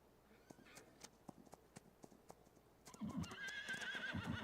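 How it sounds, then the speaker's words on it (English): Horse hooves clip-clop in a steady, even rhythm in a farm video game, then a louder burst of galloping and a whinny-like cry rises near the end. "Go, little horsey."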